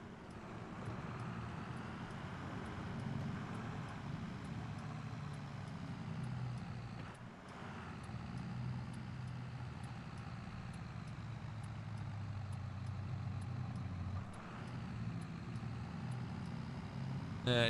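A tractor engine in Farming Simulator 22 drones steadily as it climbs a hill out of a village, a loud continuous low rumble with a brief dip midway and no talk over it.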